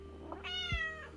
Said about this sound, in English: You've been meowing at me since the stream started.